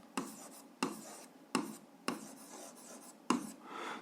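Pen strokes on paper while working an algebra exercise: five or so quick scratching bursts at an even pace, close and fairly quiet, with no voice.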